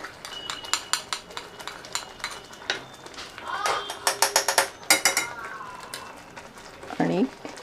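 A spoon stirs whipped milk cream into paneer masala gravy in a pan, giving quick, close metallic clinks and scrapes in uneven runs, with a brief louder knock near the end.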